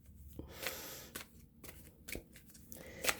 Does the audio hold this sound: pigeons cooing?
no